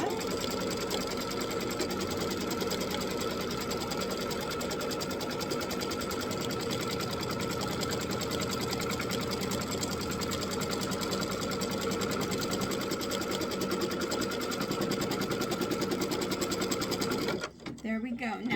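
A sewing machine stitching down a quilt block runs in one long, steady, close whir for most of the stretch, then stops abruptly near the end, with a voice talking over it.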